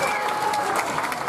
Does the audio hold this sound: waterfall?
no